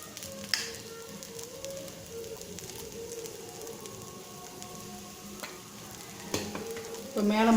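Sweet corn stuffed masala dosa cooks on a hot pan with a steady, close sizzle and crackle, plus light scraping and handling noises as the stuffing goes on and a louder burst of frying at the end.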